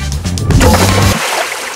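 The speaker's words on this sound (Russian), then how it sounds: "Сейчас давай аккуратно спускаем на воду." A raft splashing as it is lowered into the water, a close, loud slosh and splatter with a low gurgle, fading after about a second.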